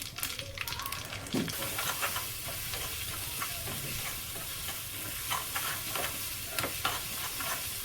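Curry leaves and asafoetida hitting hot oil in a home kitchen, crackling and sizzling with sharp sputtering bursts early on, then a steady fizzing hiss with occasional pops and stirring sounds.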